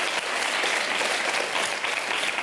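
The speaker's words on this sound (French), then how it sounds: "On l'applaudit très très fort" A huge stadium crowd at the Stade de France in 2009 applauds a singer, a loud, dense, unbroken roar of clapping that sounds close and fills the whole moment.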